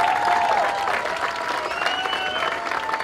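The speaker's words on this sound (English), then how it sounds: "can I get another round of applause for Parramatta Mairst for coming out tonight?" Applause from a crowd at a junior rugby league grand final for the Parramatta Mairst team, moderate clapping over an amplified hall, with a faint tonal whine running through.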